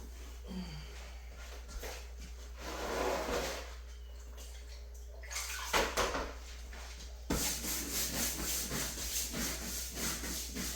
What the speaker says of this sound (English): right now, I'm just washing the baseboards that should have been washed a year ago to get the grime off of them